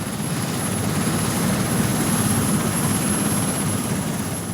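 A helicopter carrying a slung magnetometer for magnetic-field surveys drones steadily and loudly, its rotor throb and turbine whine continuous and close throughout, with no voices.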